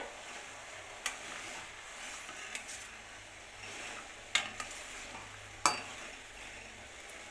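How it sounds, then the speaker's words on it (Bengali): Semolina rasgullas simmer in boiling sugar syrup under a quiet, steady bubbling hiss, broken by a few sharp clicks and taps as a spoon gently stirs them now and then. "আস্তে আমি মাঝে মাঝে এগুলোকে একটুখানি নেড়ে দেব"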